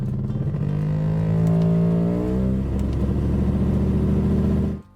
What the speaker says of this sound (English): this customer came in with their Mercedes because it sounds like an outboard motor.